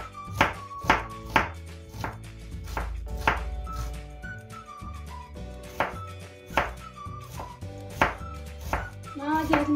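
A knife chops an onion on a cutting board in a home kitchen, with sharp, evenly spaced knocks repeating close by while light background music plays underneath.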